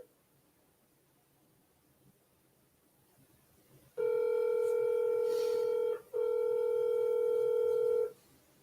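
A telephone on a cold call to a real-estate seller gives two long, steady tones separated by a short gap, loud and close against quiet hiss, with no talking.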